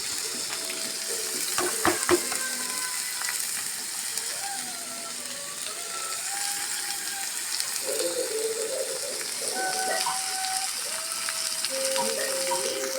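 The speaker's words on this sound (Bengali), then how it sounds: "এখন আমি আলু আর কাঁকরুলটা ছাড়ে দেবো।" Potatoes and spiny gourd frying in a pan over reddened onions and chilies, giving a steady, soft hiss throughout with a few brief clinks near the start.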